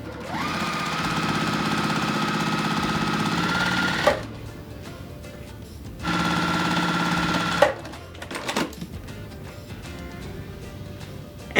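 A sewing machine stitches quilt blocks together for a pillow. It runs in two close, steady whirring bursts separated by short pauses and faint handling clatter.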